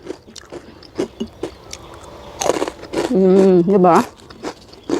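Someone bites into crispy moringa leaf crackers with a few crunchy snaps, followed by chewing and short murmurs of enjoyment from a close voice.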